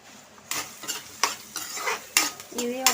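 Onions are fried and stirred in about two tablespoons of hot oil in a pan for an Andhra-style fish curry, giving a steady sizzle broken by loud scraping stirs and utensil clinks at irregular intervals, close up and without talk.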